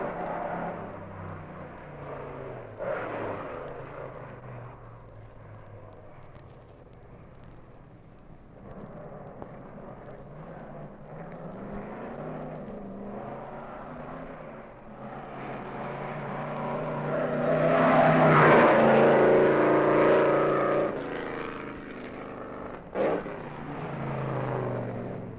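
A 1958 Mercedes racing car driven by Brooks on a still-wet Oulton Park circuit, its engine a continuous distant drone that builds louder toward the end as the car draws nearer.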